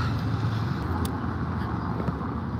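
A small Smart car passes on a street in Rome, its low engine hum and tyre noise blending into steady traffic and wind rumble, moderately close and without a clear peak.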